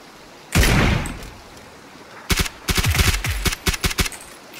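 A single loud gunshot rings out in PUBG, followed after a pause by a rapid string of close, sharp shots in quick bursts.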